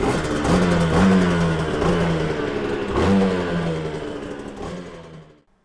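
Yamaha TZR 250 3XV two-stroke motorcycle engine revving after a rebuild, loud and close, with blips at about one and three seconds, then dropping off and cutting out near the end.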